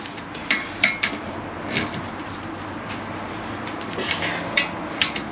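Wheel nuts being tightened across from each other on a car wheel fitted with spacers: a sparse run of light metallic clicks and ratcheting taps at close range over a quiet background, with no talk.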